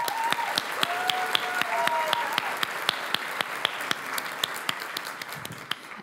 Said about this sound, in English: I want us to give another round of applause to Alex and the rest of the team.